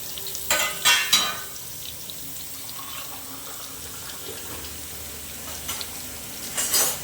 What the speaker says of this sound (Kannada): ಹೀರೆಕಾಯಿ ಹಾಕೋತಾ ಇದ್ದೀನಿ